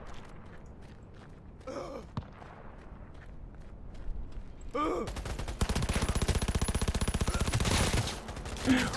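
SMG fire in Cyberpunk 2077 starts midway as a rapid, steady stream of shots running to the end, after quieter game ambience with a few scattered sounds.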